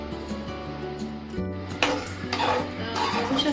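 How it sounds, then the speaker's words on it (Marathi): A thick, sticky jaggery and tamarind mixture being stirred in a pan, with close clinks and scrapes of a utensil against metal, busy and irregular with no talking. "आणि ह्याला सारखं असं मिक्स करत राहायचं"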